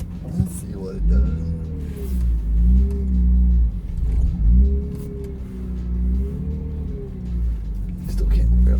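A 1995 BMW 325i E36 pulls away, its engine rising and falling through a few gear changes as it builds speed, heard from inside the car with a low rumble under occasional talk.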